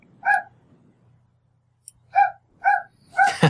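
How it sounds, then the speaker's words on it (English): Dogs barking in the background: a few sharp, separate barks spaced out over a few seconds, moderately near, with quiet gaps between them. "I've got dogs barking in the background."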